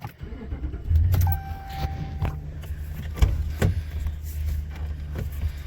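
A 2016 Ram 1500 with the 5.7L engine cranks briefly and catches, then settles into a low, steady idle close by. A soft dashboard chime sounds just after it starts.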